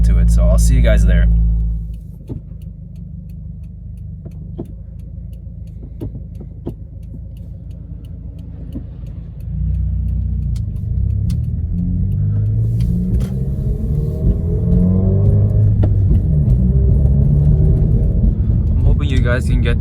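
A Subaru WRX engine idles with a deep, steady rumble after a loud cold start, then rises into a fuller, louder revving drone that holds close to the microphone while someone talks.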